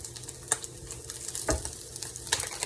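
Vegetable oil sizzles in a frying pan with ground hamburger meat filling for empanadas, giving a steady crackle punctuated by a few louder stirring scrapes, with no talking.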